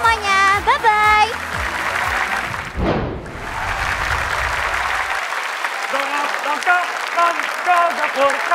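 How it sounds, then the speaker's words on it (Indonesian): Applause from a large studio audience at a televised talent show grand final, a strong burst of clapping and cheering mixed with music and a host's voice speaking over it. "Sekali lagi semua tepuk tangan untuk Fritzy."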